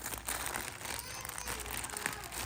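Plastic parcel packaging from an online order crinkles and rustles during unboxing, a close, continuous scratchy crackle with a few sharper crunches.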